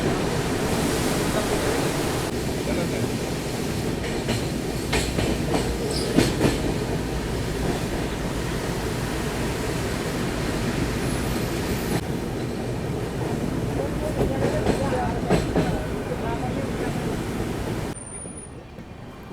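The Tejas Rajdhani Express crossing Farakka Barrage gives a steady, loud rolling rumble with rhythmic clickety-clack of wheels on the rails, continuous throughout and easing near the end.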